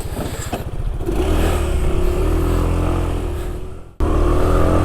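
A Genuine Buddy 170i scooter engine revs and accelerates with a rising, buzzing drone, drops off abruptly near the end, then picks back up loudly.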